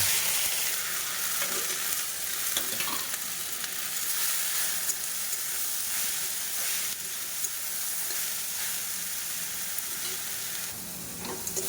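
Leafy greens (saag) frying in a pan, a continuous bright sizzle and hiss with occasional stirring scrapes, close and steady throughout, no talk.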